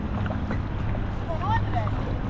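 Kayak paddling on a shallow stretch of the Allegheny River, with steady broadband water and wind noise, a continuous low hum, and a few brief excited voice sounds partway through.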